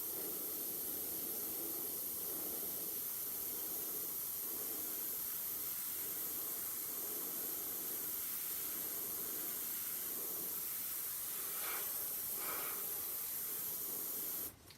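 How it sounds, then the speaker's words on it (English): Steady, faint airbrush hiss spraying Hansa Yellow paint, a continuous even spray running throughout before cutting off at the very end, with no talking. "Go in with the airbrush"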